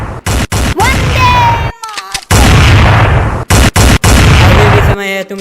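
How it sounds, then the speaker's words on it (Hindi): Loud gunshots crack in sharp, separate bursts, several close together with short gaps, under a dramatic staged scene with a musical tone in the background. "तुम जितने भी गोली चला लो, हम रुकने वाले नहीं है।"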